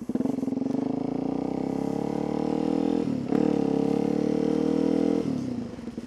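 Motorcycle exhaust rumbling close and loud while riding, a steady throaty drone that briefly drops and surges back before easing off near the end.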